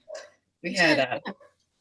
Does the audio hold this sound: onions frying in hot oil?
no